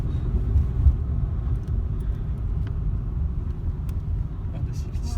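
Car driving a winding country road near Rocamadour in the Lot, heard from inside as a steady low engine and road rumble throughout.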